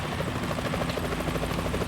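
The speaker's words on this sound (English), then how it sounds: "Is that a chopper I just heard?" A helicopter in the Metal Gear Solid 2 video game gives a steady, rapid rotor thump with a constant engine drone, holding an even level throughout.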